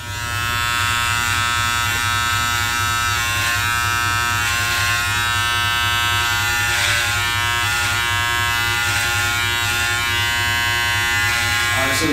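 A Wahl Detailer Li cordless trimmer trims a beard along the neckline, giving a steady, loud, close electric buzz that runs unbroken throughout with a slight tonal shift near the end.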